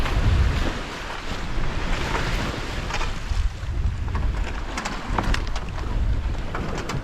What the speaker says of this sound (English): We've got about 7 knots of wind from behind.